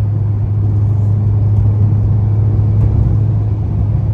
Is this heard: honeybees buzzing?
no